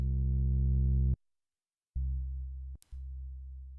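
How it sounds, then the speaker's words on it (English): A Sylenth synth bass dropped an octave, run through a filter with overdrive, sustains as a low, buzzy tone, cuts out briefly, then returns thinner, with a short glitchy click before the sustain resumes. "I'll bring it down by 12 semitones, which is just 1 octave. And then I'm going to push it through a filter and turn up the overdrive"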